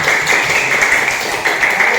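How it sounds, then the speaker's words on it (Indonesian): A classroom of pupils claps hands together in loud, dense, continuous applause that stays steady throughout, close and filling the room. "Tepuk tangan dulu."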